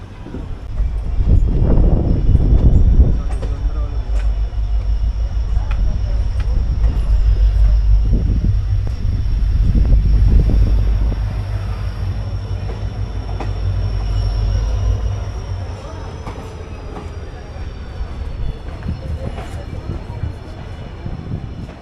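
Passenger train 14736 on the Ambala to Shri Ganganagar route runs steadily toward Abohar Junction, a loud continuous low rumble of wheels and carriages with swells of louder clatter, easing slightly toward the end.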